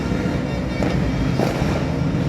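A dense, continuous crackle of New Year's Eve firecrackers with a few louder pops, heard at a distance throughout without pause.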